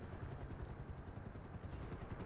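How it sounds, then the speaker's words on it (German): A helicopter in the game GTA Online gives a rapid rotor chop, a steady thudding flutter heard at close range for the whole stretch, without voices. "Einer ist ein Heli."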